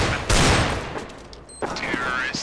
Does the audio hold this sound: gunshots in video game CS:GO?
yes